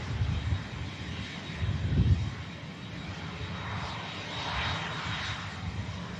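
A Boeing 747 landing at Manchester Airport in a crosswind gives a low, fairly faint engine rumble that rises and falls, heard alone without talk.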